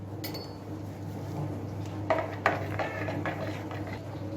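A utensil stirs yogurt, vinegar and egg in a bowl for baklava dough, giving faint scraping and a couple of sharper clinks against the bowl.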